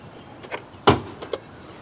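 Hood release latch pulled from inside the driver's side door of a 2005 Nissan Pathfinder, giving one sharp, close plastic clunk with a few fainter clicks before and after in a quiet space.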